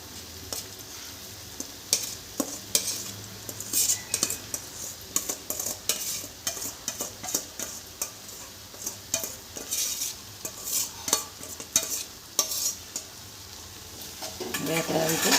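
A spoon stirs flattened rice (poha) with potatoes frying in a pan. Irregular metallic scrapes and taps ring against the pan over a soft, constant sizzle, close up, with no talking.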